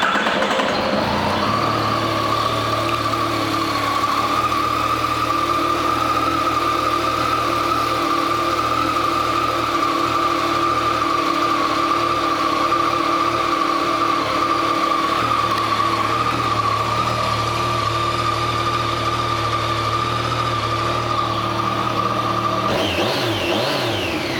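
A 2014 Yamaha FZ-09 motorcycle engine runs steadily and loudly for about twenty-two seconds with a sustained droning tone, then cuts off abruptly near the end.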